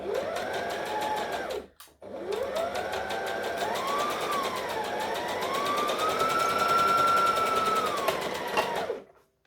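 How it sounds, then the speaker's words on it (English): A sewing machine stitches and back stitches Halloween costume pieces with a steady mechanical whir, stopping briefly near the start and then running on with slight shifts in speed before cutting off. "We're going to stitch and back stitch"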